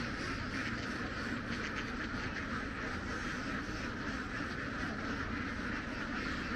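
Ducks being herded across rice fields at night to forage, giving a dense, steady wash of quacking from a large flock with no pauses and no voices over it.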